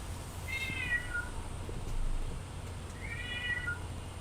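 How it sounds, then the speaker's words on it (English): An unhappy cat gives two drawn-out, plaintive meows a few seconds apart, moderately close, over a steady background hum with no talking. "Your cat is unhappy."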